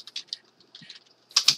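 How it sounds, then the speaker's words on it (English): Someone types on a computer keyboard, a short run of light, close keystrokes in small irregular bursts, ending with a couple of slightly louder presses. "So I'm just typing everything in,"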